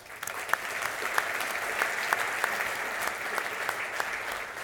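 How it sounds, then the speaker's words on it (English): Conference audience gives sustained applause for event sponsors, a dense even patter of many clapping hands with a few sharper individual claps standing out, moderately loud and steady throughout. "give a round of applause for all the sponsors, both large and small"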